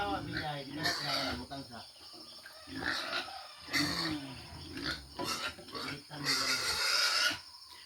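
Pigs grunt repeatedly and noisily in a busy farmyard, with occasional fowl calls mixed into the steady din.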